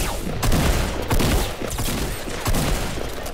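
Repeated gunfire bursts in a Fortnite Battle Royale firefight, several sharp volleys in quick succession over a steady rumble of game noise, loud and close with no voices.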